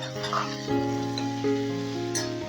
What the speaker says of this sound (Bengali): এবার টমেটোটা মশলার সঙ্গে ভালো করে ভাজা ভাজা করে দিলাম